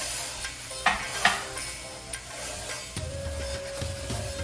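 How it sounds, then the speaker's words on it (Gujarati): Warm milk going into semolina sheera in a pan, a close sizzling hiss with a few sharp clinks of a spoon against the pan, then a steadier bubbling under a faint hum. "આપણે આમાં દૂધ નાખીશું."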